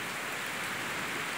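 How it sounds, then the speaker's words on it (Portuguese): Steady rain pours down on a rural farm in Pentecoste, Ceará, Brazil, a continuous dense hiss of drops without a break, heard alone with no voices. "eu fico muito feliz quando vejo uma cena dessas, cenário como esse aqui, essa chuva maravilhosa."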